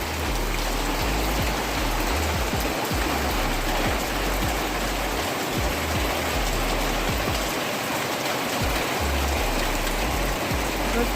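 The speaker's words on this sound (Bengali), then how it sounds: "প্রচণ্ডভাবে বৃষ্টি শুরু হয়ে গেছে।" Heavy rain pours steadily onto a rooftop on a wet afternoon, a loud, dense, unbroken hiss with low rumbling thuds underneath, no voices.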